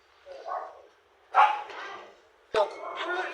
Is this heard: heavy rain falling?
no